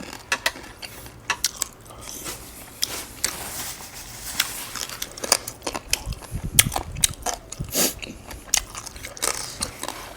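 Someone eats beef noodle soup with beef meatballs, producing close, irregular chewing, slurping and utensil clicks in scattered bursts, with a few louder chomps midway.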